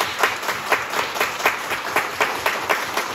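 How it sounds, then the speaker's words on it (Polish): Concert audience applauding after a classical performance by National Philharmonic musicians in Warsaw, a steady rhythmic clapping at moderate volume, unbroken throughout with no voices. "Wielkie brawo."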